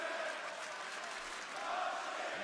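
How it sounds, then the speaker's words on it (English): Loud wrestling arena crowd at a live WWE Monday Night RAW broadcast, a continuous roar of cheering that swells slightly near the end, with no single voice standing out. "Yes, the crowd is still loud."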